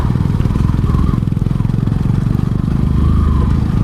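Motorcycle climbing a rough, rocky offroad hill track on Chandragiri Hills, its engine throbbing loudly and steadily up close with a rattling pulse, no voices over it.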